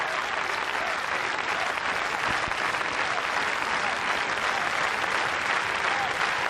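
Continuous, even applause from a large crowd at a professional Latin dancesport event in Paris, greeting the dancers Donnie Byrnes and Gaynor Fairweather, full and unbroken from start to finish.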